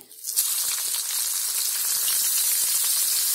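Chopped onion dropped into hot oil in a pan for a prawn gravy, bursting into a loud, steady sizzle that starts abruptly and holds at a constant hiss, close up with no talking.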